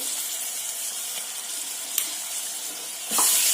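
Onion and coconut paste frying in oil in a pan, a steady broadband sizzle throughout with a sharper, louder burst near the end, no talking.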